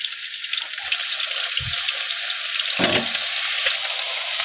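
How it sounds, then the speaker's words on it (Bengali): Banana flower, potato and small fish are stirred in a pan with a loud, continuous sizzle, and a spatula knocks and scrapes against the pan several times. "মোচাটা দেওয়ার পর একটু ভালো করে নাড়াচাড়া করে নিচ্ছি"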